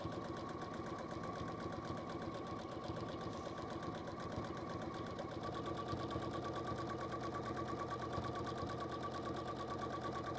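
A sewing machine runs steadily through straight-line stitching, its rapid even needle clatter continuous and close for the whole stretch, with no talking over it.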